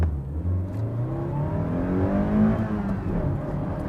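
A first-generation Toyota MR2 accelerates hard from a standstill on a 0-60 mph run, its engine note rising steadily through the revs with a brief dip at a gear change, heard from inside the car.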